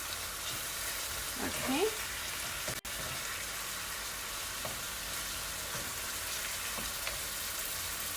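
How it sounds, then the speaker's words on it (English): Lamb pieces browning in a pot for pelau, sizzling steadily at moderate volume while the meat is turned, with a few soft utensil scrapes and a brief spoken word near the start. "I'm just flipping it over so both sides can get some of that gorgeous browning that we have going on"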